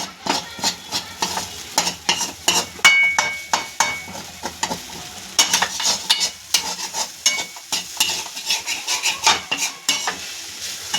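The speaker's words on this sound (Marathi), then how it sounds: "आता आपण थोडासा हलका हलवू" A spoon scrapes and stirs steamed grated sweet potato in a pan, making a quick series of sharp, close clicks and scrapes with a soft sizzle underneath, and no one speaks.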